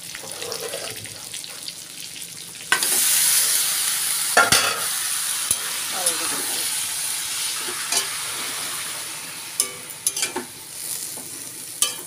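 Prawns frying in a home kitchen pan give a steady, loud sizzle with occasional spatter pops and utensil clinks, with no talking; heavy rain is falling outside.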